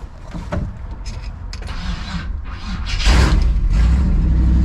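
A 1968 Chevy Suburban, rescued from the scrapper, idles and runs close by with a rough, steady rumble that grows louder and fuller partway through, accompanied by mechanical rattles and clunks.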